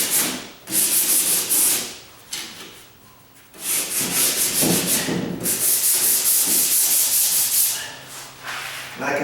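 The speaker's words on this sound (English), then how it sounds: "another reason to lightly sand it" Sandpaper rubbing by hand across a painted door, light sanding before repainting, in repeated strokes with short pauses between passes, close and fairly loud, no talking.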